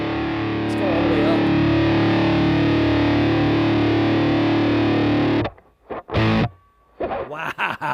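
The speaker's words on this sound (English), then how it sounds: "when I go down like that, the distortion kind of stays the same" A guitar plays through a distortion effect pedal cranked all the way up, giving a loud, sustained, fuzzy buzzing tone for about five seconds before cutting off into choppy fragments.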